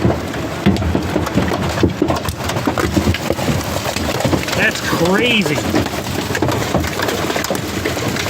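Large hailstones, bigger than a quarter, pelt down in a storm, producing a dense, steady clatter and patter throughout. A person speaks briefly over the noise.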